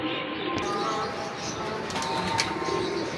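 Rare breeder pigeons cooing softly in a loft, low throaty coos mixed with faint rustling and flutter under a busy background.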